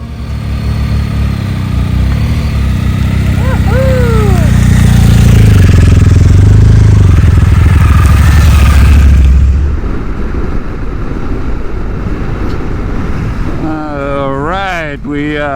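A motorcycle of over 100 horsepower pulls away from a campground near Coldfoot, Alaska, its engine loud and rising steadily in pitch and strength, then easing off into steady road and wind roar with a brief rising rev near the end.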